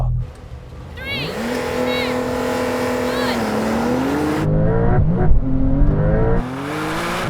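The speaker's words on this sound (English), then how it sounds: "This car just sounds so much more menacing than the standard Turbo S." Brabus 900 Rocket R launches in a drag race, its engine roaring up through rising revs with a gear change midway, then a second burst of acceleration, loud and close.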